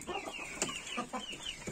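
Chickens clucking on a farm, a few short, soft, quiet clucks and chirps close together in a brief, low-level burst.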